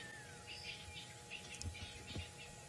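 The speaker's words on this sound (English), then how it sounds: "Round 2 might be on its way, and I apologize in advance for those birds." Wild birds calling at sunset in the African bush, a scatter of faint chirps and tweets at middle distance over a steady hum of insects and low background noise.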